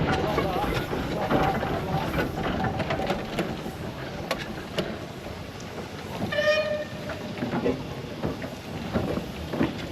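A steam traction engine at the Cotswolds Festival of Steam rumbles along slowly through a corner near a barrel roller, a steady broad mechanical churn with a brief whistle-like tone sounding partway through.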